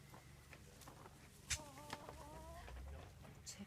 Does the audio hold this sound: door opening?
no